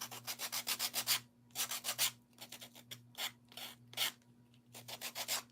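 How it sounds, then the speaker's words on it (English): Sandpaper rubbed by hand across a small wooden cutting board, heard as rhythmic bursts of close, raspy scratching strokes in quick runs separated by short pauses, with a steady low hum underneath. "I think I need to get a new sandpaper on here."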